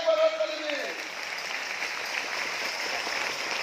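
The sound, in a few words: congregation applauding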